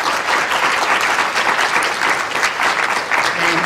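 An audience at a human rights and social justice in social work event breaks into sustained, even applause, a dense steady clatter of many hands lasting throughout without pause.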